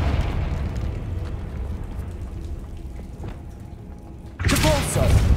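A Confringo fire spell explodes in Hogwarts Legacy, arriving as a sudden loud, broadband burst near the end after several seconds of rain-like ambient noise.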